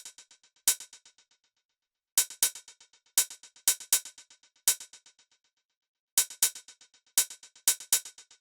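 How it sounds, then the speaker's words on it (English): Crisp, short metallic closed hi-hat ticks from stock FL Studio drums repeat in a bouncy, syncopated pattern, each followed by quick decaying echoes, with gaps between groups. "Last but not least I added this closed hi-hat."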